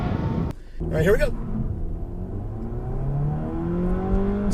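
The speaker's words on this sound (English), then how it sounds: "Really good sounding engine. Just sounds angry." A 2015 Dodge Dart GT engine accelerating hard from a launch, a loud rising rev that climbs steadily and holds a strained, throaty drone as the car gathers speed.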